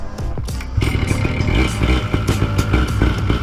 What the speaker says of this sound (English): I'm gonna get set up with the motor, get it warmed up on my back